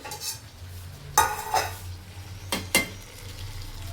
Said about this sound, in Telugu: ఒకసారి తిప్పుకుంటే